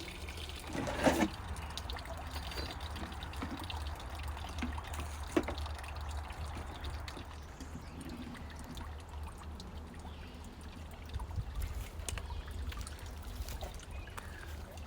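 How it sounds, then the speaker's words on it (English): Pond water pours and trickles steadily from a hose into an aquaponic filter in a quiet, continuous stream, with a couple of soft knocks and splashes. "I have the water coming in from that hose from the pond."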